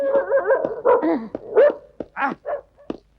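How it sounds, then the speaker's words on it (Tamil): A dog barks and yelps excitedly several times up close, mixing whiny, drawn-out cries with short sharp barks. "ஏய் கமான் கமான் டைகர் கமான் அந்த நாயே"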